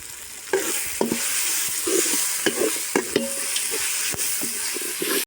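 Tomatoes and green chillies sautéing in a pan for home-style chicken biryani, a steady close sizzle broken by sharp scrapes and clinks of a stirring spoon, with no talking.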